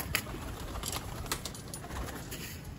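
Pigeons coo softly while being fed millet outdoors in Rawalpindi, a few low murmuring calls amid light background noise and occasional faint flutters.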